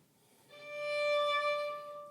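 A single sustained note bowed on a Baroque violin with period technique, swelling in loudness toward the middle and tapering off, rich in steady harmonics, played alone after a brief quiet start.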